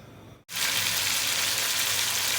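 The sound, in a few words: mutton frying in hot oil in a karahi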